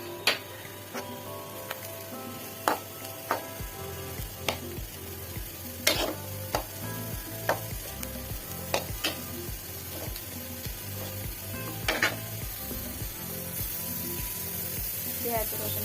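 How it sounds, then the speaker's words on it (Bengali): Onion, garlic and green chili frying in a pan, a continuous sizzle with repeated sharp scraping and clinking stir strokes from a spatula, close and steady throughout. "পেঁয়াজ রসুন কাঁচামরিচ ভাজা হয়ে গিয়েছে।"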